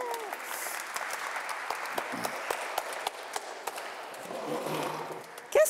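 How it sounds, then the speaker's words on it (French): An audience applauds at a French-language talk, with dense, sustained clapping filling the room at steady loudness for several seconds. "On peut les applaudir."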